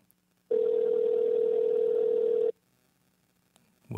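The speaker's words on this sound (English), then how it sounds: "We're going to call him right now." A steady telephone tone sounds for about two seconds as a phone call is placed on air during a talk broadcast, loud and continuous, starting and stopping abruptly, then silence.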